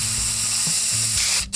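A burst of aerosol spray can hiss, loud and close, rising sharply near the end over a low steady hum, with no voices.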